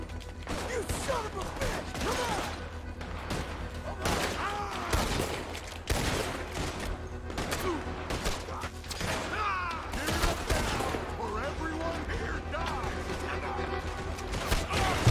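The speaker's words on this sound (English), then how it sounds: "I was being shot from somewhere and I wasn't really paying attention and now I'm dead." Rapid bursts of gunfire in a shootout from Red Dead Redemption 2, repeated sharp cracks and volleys at close range, with a voice talking over the shots.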